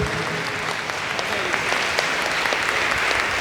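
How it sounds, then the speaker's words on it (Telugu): A crowd claps steadily and loudly throughout, dense continuous applause with a few voices faintly mixed in. "అందరూ చప్పట్లు కొడుతూ మన హర్షితములు తండ్రులకు"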